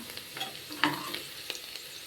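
Onions and green chillies fry in a pressure cooker pot, a soft steady sizzle under scattered scrapes and clinks of stirring, with one sharper knock near the middle.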